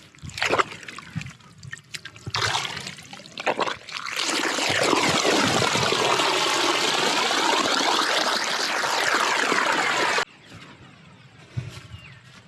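Water rushes steadily along a paddy field channel in Sri Lanka in a broad, continuous flow for several seconds, with brief voices and splashes before and after the surge.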